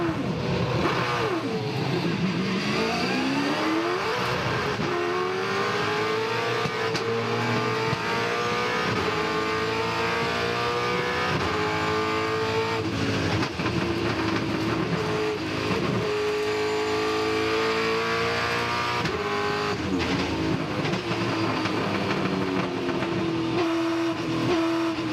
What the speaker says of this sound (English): We'll go on board the Team Vodafone car and he only just gets away.